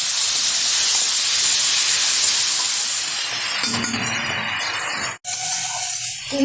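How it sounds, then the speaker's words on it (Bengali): Spices, tomato and potatoes sizzle in a pan for a fish curry with pointed gourd, a loud steady hiss that thins out toward the end and is cut by a sharp break. "ভালোভাবে কষিয়ে নেব।"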